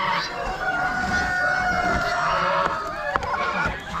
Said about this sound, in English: It's like some Rhode Island Red Bantams.